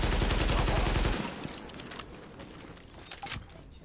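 Rapid bursts of automatic gunfire in the video game The Division, loud at first and then giving way to scattered, quieter shots and clatter.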